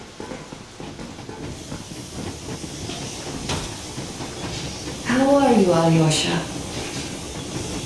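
The steam train in the Metro Exodus video game runs at full steam with a continuous rumbling hiss and rolling clatter, and someone speaks briefly over it midway.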